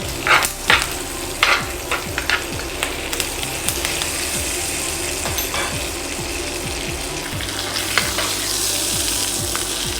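Pork chops and black pudding crackle loudly in a hot pan, with repeated scraping and knocking as the pieces are rolled and moved around, and the sizzle carries on throughout.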